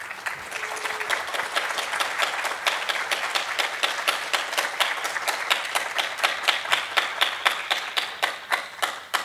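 Audience at a women-in-tech talk applauding after the speaker finishes, a dense, even roar of many hands clapping with a regular pulsing beat that holds strong throughout.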